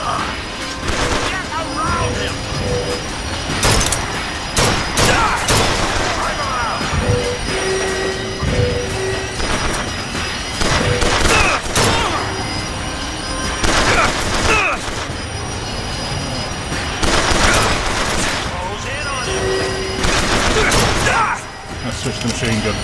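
Rapid automatic machine-gun fire bursts repeatedly in the BioShock Infinite Clash in the Clouds shooter, mixed with clanking combat effects and loud game sounds, while someone talks over the action.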